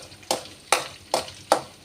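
Sliced green chillies frying in a pan, stirred in four evenly spaced scraping strokes over a faint sizzle, close and clear with no voices.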